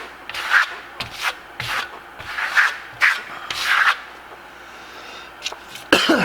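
A trowel spreads Modern Masters Shimmerstone venetian plaster smoothly over a wall in repeated close scraping, rubbing strokes, each a second or so long, with a short pause near the end.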